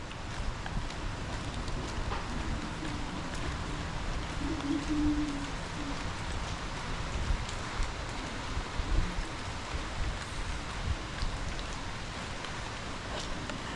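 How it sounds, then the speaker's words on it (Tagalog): Steady rain falls in a constant broadband hiss, with occasional wind gusts and faint low rumbling in the background. "Hanggang ngayon, umuulan pa rin."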